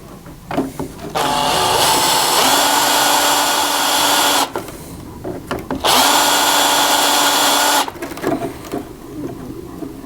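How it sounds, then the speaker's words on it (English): Power drill boring out rivets on a Lotus Elise during a radiator and shroud install, two loud sustained bursts of whirring separated by short pauses and small clicks. "those are riveted in, so we're going to drill them out"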